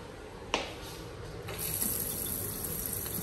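A house tap runs with a steady rushing stream of water, close and moderately loud, following a brief click as it opens.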